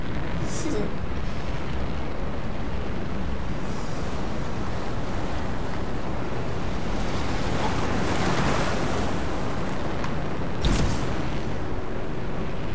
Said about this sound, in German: Sieh dir die Wasserfälle an. Sie fließen rückwärts.